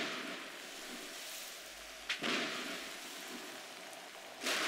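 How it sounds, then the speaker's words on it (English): Acid rain and lightning in the Roblox game Natural Disasters Survival: a steady hiss of falling rain throughout, with two brief sharp crackling bursts partway through and at the end. "It's lightning and acid rain."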